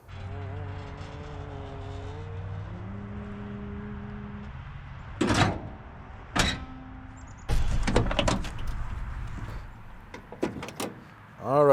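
A 1969 Dodge Charger Special Edition door is opened, giving a few loud close clunks and latch clicks, the last one near the end, after a stretch of steady tonal hum.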